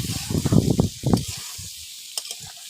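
Soybean chunks stir-fried in a pan for a soybean and egg curry, with soft sizzling broken by a quick run of scraping, clattering stirring strokes that fade to a quieter hiss.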